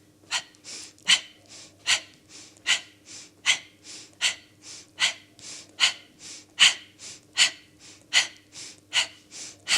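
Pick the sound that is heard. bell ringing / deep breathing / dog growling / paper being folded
deep breathing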